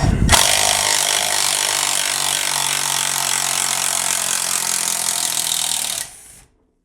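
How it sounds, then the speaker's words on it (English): A Milwaukee M12 cordless impact driver runs continuously while removing bolts, a loud, steady, buzzing whir lasting about six seconds before cutting off abruptly, with no talking. "We'll compare removing these bolts with the Impact to the drill"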